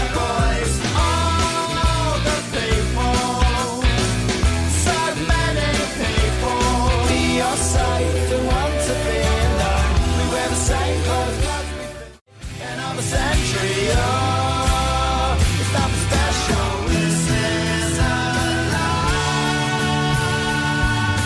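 Full-band rock music, with driving drums, bass, guitars and vocals playing loud and steady, briefly dipping near the middle before carrying on.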